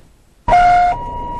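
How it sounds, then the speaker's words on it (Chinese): An ambulance carrying a car-crash patient sounds a sudden loud warning tone at close range on a city road, a sharp electronic blast that steps to a slightly higher held pitch after half a second. "最后被救护车鸣笛警告"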